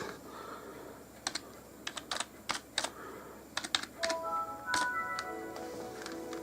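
Keys on a computer keyboard tapped in short uneven bursts while entering a password on a Windows 7 PC, close and fairly clear over a faint background hum, with a brief electronic beep-like tone near the end.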